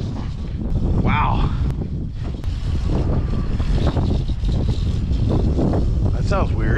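Wind blowing outdoors on a snowy winter morning, a loud continuous rushing roar buffeting the microphone throughout, with a voice speaking under it.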